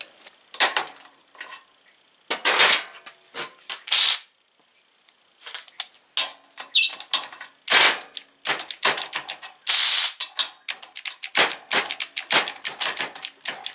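An Avid Power ACRW106 12V 3/8-inch cordless ratchet wrench runs in repeated short mechanical bursts during a torque test, with rapid clicking ratchet chatter and brief pauses, close and fairly loud.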